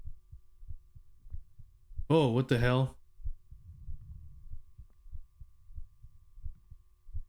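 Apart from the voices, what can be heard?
heartbeat sound from a PSX-style video game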